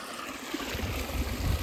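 Irrigation water flows slowly through a guava field in a steady, close, low rushing trickle with a soft gurgle and no voices.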